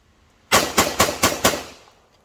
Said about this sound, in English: Let's go ahead and shoot that real quick here